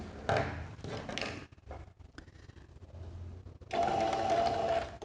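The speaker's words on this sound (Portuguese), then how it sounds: "Eu gosto de começar a costurar sempre pelas emendas assim." A sewing machine stitches fabric seams on a small organizer bag, running in two short bursts of motor whir separated by a quieter pause with light handling noises.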